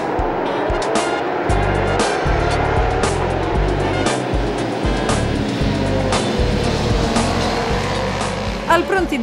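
Racing motorcycles at the Trofeo Bridgestone Champion Challenge at Franciacorta snarl and rev as the race gets under way, with loud engines pulsing and accelerating under steady commentary.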